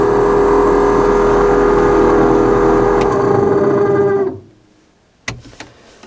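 A faulty blower motor in a 1991 Ford F-150 runs on its only working high speed, a loud, rough, droning whir with an uneven rattle that winds down and stops near the end, followed by a couple of faint clicks.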